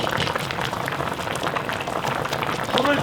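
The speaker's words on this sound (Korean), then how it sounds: "여기서 좀 끓여." Pork and kimchi stew bubbling at a steady boil in a pot, a dense continuous burble of popping bubbles close up, with no talk.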